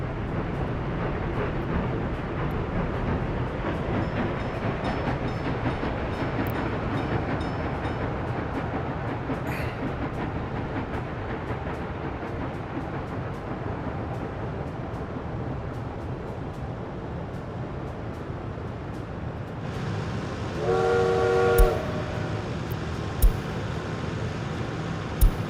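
Trains running on rails in the city-building game Tropico, a steady rumbling roll with clattering wheels that carries on throughout, brief clicks and a louder passing surge near the end, with no talk.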